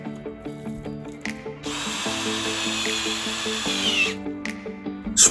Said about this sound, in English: All you've got to do is insert it into your power drill, and then you can quickly drill holes.